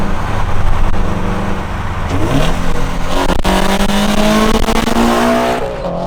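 A loud V8 Camaro with an X-pipe exhaust roars and revs upward through gear changes as it passes close by, with a deep, rumbling exhaust note.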